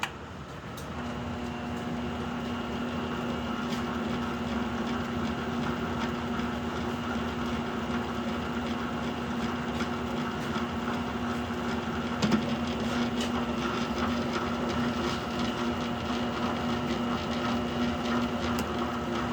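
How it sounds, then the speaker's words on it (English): A lathe slowly cutting threads with a triangle insert hums steadily throughout, a constant mechanical whine with faint ticking and one brief louder knock midway, no talking. "So, time to cut some threads, slowly."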